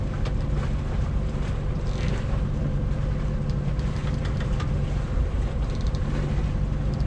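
A steady, heavy low rumble of a large ship's engines close by as it approaches in a Norwegian marina, with wind and water noise over it, continuous and unchanging.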